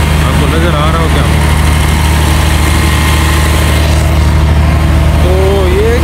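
A diesel train engine idles at Karachi City railway station with a loud, steady low drone and throb, while faint station voices and background chatter mix in.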